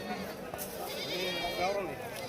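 Goats bleating at the Shirur goat market in Maharashtra, a couple of wavering bleats close by amid market chatter and voices talking.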